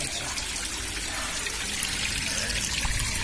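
Water trickles steadily through a makeshift pipe fashioned from a leaf, a continuous close-up splashing hiss with no speech over it.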